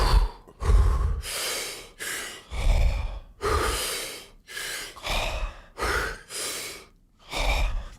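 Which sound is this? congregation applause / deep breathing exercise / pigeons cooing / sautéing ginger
deep breathing exercise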